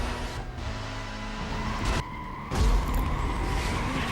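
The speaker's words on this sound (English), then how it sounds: "as we are driving the BMW M3 GTR for our final race" A BMW M3 GTR races in Need for Speed: Most Wanted (2005, PS2), its engine droning steadily and loud, with brief tire squeal or skid bursts and a heavier roar near the end.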